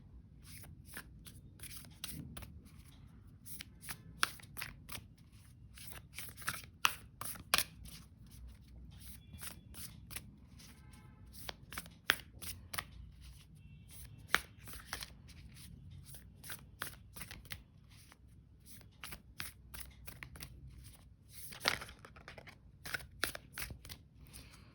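Tarot cards are shuffled by hand in a quiet room, a long run of quick crisp riffling clicks and snaps in irregular bursts, close and fairly soft, with no talking.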